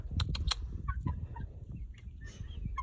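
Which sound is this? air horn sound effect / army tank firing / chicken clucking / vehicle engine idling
chicken clucking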